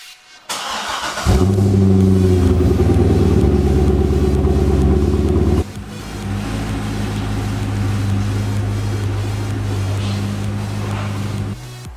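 A Corvette C6 Z06 with freshly replaced brake pads, rotors and fluid starts up and drives away, a loud steady engine drone with strong low harmonics that drops in level and recedes partway through, no talking.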